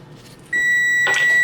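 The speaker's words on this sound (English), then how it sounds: "That's the timer for the pecans." A kitchen timer goes off for pecans baking in a home kitchen, starting with a sudden, loud, sustained electronic tone over quiet background.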